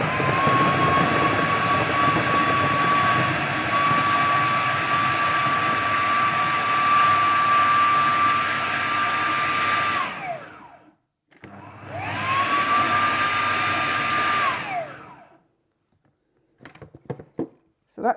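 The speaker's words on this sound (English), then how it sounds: "I'm just going to whiz that together to make it into the breadcrumbs" Food processor blitzing pastry into breadcrumbs, a loud steady whine with a high motor tone running about ten seconds, stopping, then a second shorter burst before clatters and quiet.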